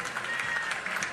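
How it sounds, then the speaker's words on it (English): A home crowd at a college softball game between Kansas and Oklahoma cheers and applauds in a brief, steady roar heard at a distance. "And as Coach Gasso pats Sam Landry on the back, listen to this crowd respond."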